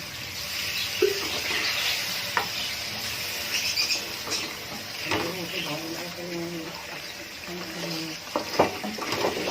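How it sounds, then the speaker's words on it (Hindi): A pot of beef korma cooks on the stove as yogurt and a little water are added, giving soft bubbling, sizzling and stirring scrapes against a steady background hiss, with faint voices. "अब हम इसमें दही शामिल करेंगे।"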